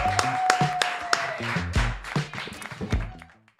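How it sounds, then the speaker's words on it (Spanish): Audience clapping to welcome a guest on a talk show, a modest scatter of distinct hand claps with uneven rhythm, fading away toward the end. "recibiremos a Martín Rodríguez con un fuerte aplauso"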